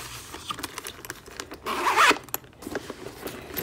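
A big zipper on the outside pocket of a 4-inch dual binder is pulled in one brief, close rasping run, with light handling noise before and after.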